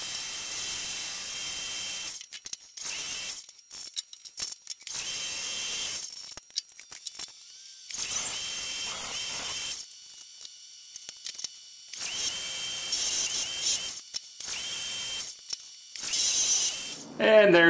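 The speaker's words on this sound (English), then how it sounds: "I'm just gonna drill a half inch hole in there" A power drill bores a half-inch hole into metal for a knife handle build in several long bursts, grinding and whining loudly, with brief pauses between runs.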